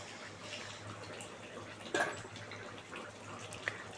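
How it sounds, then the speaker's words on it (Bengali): Fish curry with potatoes and raw banana, made with fresh pond fish, simmers in a pan with a soft, steady bubbling hiss, quiet and close, with a couple of faint pops and no talking. "এই তো টকবক করে ফুটছে"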